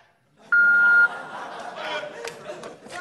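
A single sharp electronic answering machine beep sounds for about half a second, followed by faint background chatter and light laughter.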